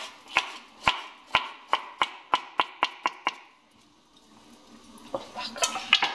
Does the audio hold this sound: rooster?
no